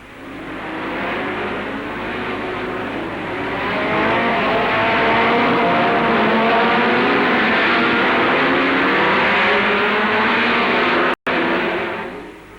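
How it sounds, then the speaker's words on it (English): Loud, sustained roar of 1961 Formula One racing car engines, dense and steady with shifting pitch, one brief dropout near the end. "Formula One cars."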